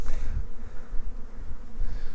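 Honeybees buzz at an opened hive during a quick spring inspection of a weakened colony, a loud, close, wavering drone with low thumps of handling.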